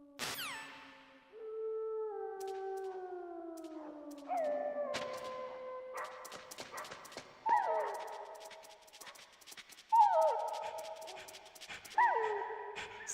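Dog in the video game Metal Gear Solid gives a series of whimpering, howling yelps with falling pitch, then several sharp barks spaced a couple of seconds apart, close and clear with no talk.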